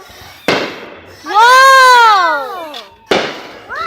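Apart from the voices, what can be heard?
fireworks exploding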